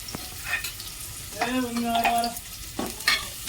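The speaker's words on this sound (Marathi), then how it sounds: "मग आता मी कांदा टाकते पहिला कांदा चांगला फ्राय होऊन देणार आहे" Onion fries in a pan for chickpea curry, giving a continuous close sizzle with a few stirring scrapes, while a brief hummed or murmured vocal sound rises over it in the middle.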